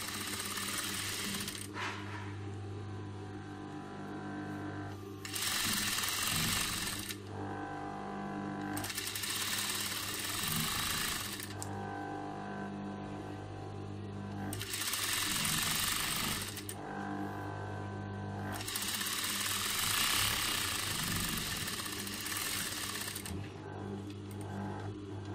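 Sewing machine stitching the sleeve of a small girl's cape, running in several steady bursts of a few seconds each, separated by quieter pauses, close and fairly loud.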